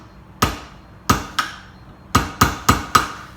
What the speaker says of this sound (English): The trick is to be able to watch what the slide is doing and strike the punch at the same time.